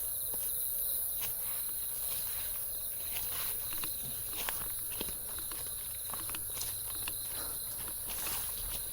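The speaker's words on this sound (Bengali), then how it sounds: "চারিদিকে ঝিঝে পোকার ডাক" Crickets chirp in a forest, a constant, high, shrill drone that fills the whole stretch at moderate distance, with a few faint rustles underneath and no voices.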